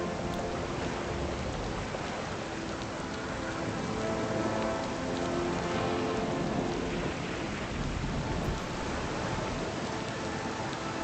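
A rain and thunder storm at sea in the game Pillars of Eternity: Deadfire, with heavy, constant downpour and low rolling thunder building and ebbing over a dense, loud wash, no voices.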